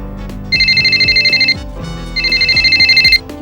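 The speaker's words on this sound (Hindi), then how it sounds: "फोन बज रहा है" A telephone rings in two long electronic trilling bursts, loud and close, with a short pause between them and a steady tone running underneath.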